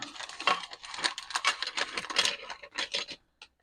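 Solid hard plastic model car parts clatter and rattle against each other as they come out of a cut-open pack, a dense jumble of light clicks that thins out to a few final taps, fairly quiet.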